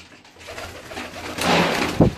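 Pigeons on a rooftop loft give soft, low cooing under a rising wash of background noise, ending with a sharp close knock or flutter.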